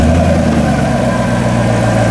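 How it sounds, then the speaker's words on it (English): A GM V8 swapped into a Jeep Wrangler (LT1/LS3 conversion) rumbles steadily at close range, a loud continuous low idle with no talking over it. "You can hear the diesel-like qualities where it cranks a little bit longer to get that fuel pressure up."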